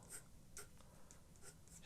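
A soft 2B graphite pencil drawing on paper, a faint close scratching and scribbling with a few brief stroke accents over quiet room noise.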